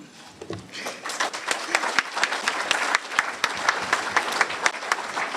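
A crowd at a Kiwanis club event applauds for a group of children, the clapping building quickly and then holding steady, with sharp individual claps standing out from the dense wash.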